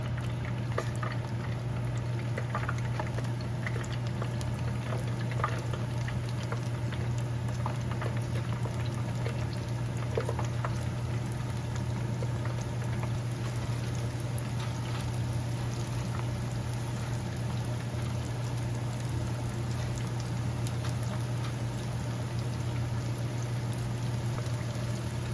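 Onion rings deep fry in a pot of hot oil during a weeknight fish fry, a constant dense bubbling and crackle beneath a steady low hum.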